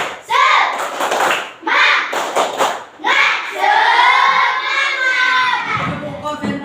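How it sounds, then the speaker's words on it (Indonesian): Group of children performing a rhythmic spirit clap in a classroom, loud bursts of clapping and chanting voices in a patterned sequence, ending in a shouted cheer. "Baiklah, coba tepuk semangat."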